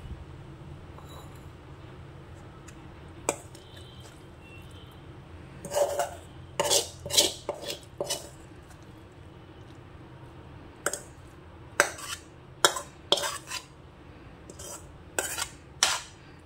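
Cooked eggplant and onion curry is spooned from a pan into a bowl: scattered metal clinks and scrapes, in bursts that grow busier toward the end, over a quiet background with no talking.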